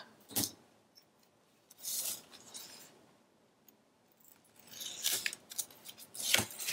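Scissors snip through paper for a papercraft build: several crisp, separate cuts spaced apart in a quiet room, close and fairly soft.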